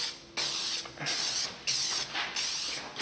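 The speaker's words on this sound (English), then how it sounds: "here I have my spray paint. It's a clear spray paint, so no color" Clear spray paint hisses from an aerosol can onto a bare copper part in several short bursts of about half a second to a second each, close and fairly loud, with brief pauses between passes.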